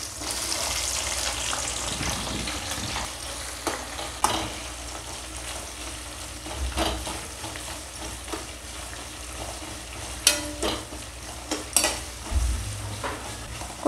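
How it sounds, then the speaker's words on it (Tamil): Chopped onions sizzle steadily in hot oil with pepper for brinjal thokku, a close, continuous frying hiss broken by occasional stirring scrapes and clinks from a spoon in the pan. "இப்போ வெங்காயம் போட்டுக்கலாம்."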